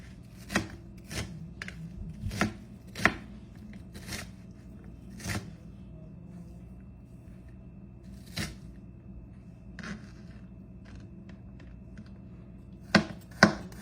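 An onion being chopped with a knife on a cutting board at home, sharp irregular knocks in small clusters with pauses between, close and distinct over a quiet room hum.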